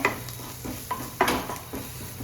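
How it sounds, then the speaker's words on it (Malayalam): Mushroom masala being stirred in a pan, soft sizzling with several scraping strokes and light spoon knocks over a couple of seconds. "നമുക്കൊന്ന് ഇളക്കി കൊടുക്കാം കരിയാണ്ട് നോക്കണേ"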